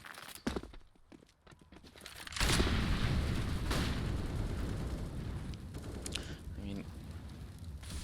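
A Desert Eagle pistol fires during a professional Counter-Strike major match between Rain and NaVi. Sharp gunshots and booming bursts sound under a caster's commentary, with a heavy, sustained roar of game action in the second half.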